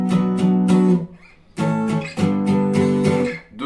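Acoustic guitar strumming barre chords in a simple repeated pattern, steady rhythmic strokes ringing out with a brief pause before the strumming resumes, close and clear with no voice.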